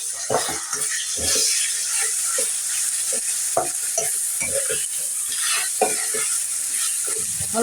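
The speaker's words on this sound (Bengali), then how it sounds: "এখন আদা রসুন বাটাটা দিয়ে দিলাম" Ginger garlic paste sizzles and fries in a pan as it is stirred, with steady hissing and repeated scraping strokes of a spoon against the metal throughout, close and fairly loud.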